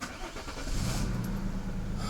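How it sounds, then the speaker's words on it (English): The V6 engine of a Peugeot 407 Coupe starts with a brief crank and settles into a low, steady idle rumble close by. "So now the car started again."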